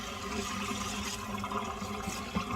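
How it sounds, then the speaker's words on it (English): A small handheld sprayer sends cold water onto a synthetic wig, a continuous close hiss and patter of spray with a brief splash near the end. "using cold water, I am just going to spray my wig and clean it."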